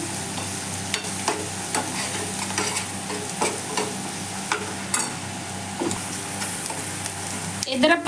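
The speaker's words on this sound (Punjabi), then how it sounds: "ਚੰਗੀ ਤਰ੍ਹਾਂ ਮਿਕਸ ਕਰ ਲਵਾਂਗੇ ਸਾਰੀਆਂ ਚੀਜ਼ਾਂ ਨੂੰ" Red chili powder and spices are stirred in a hot oiled pan for eggplant bharta, with a steady sizzle and repeated spoon scrapes and taps against the pan, close and moderately loud.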